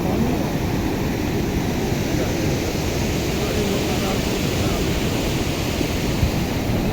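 Flood water from the 2022 Pakistan floods surges past in a loud, continuous roar, a broad rumbling rush with wind buffeting the microphone and no pauses throughout.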